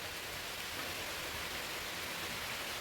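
Garlic sizzles steadily in hot oil as it is added to a simmering prawn curry with curry leaves and ginger, a dense, even hiss filling the clip without pause.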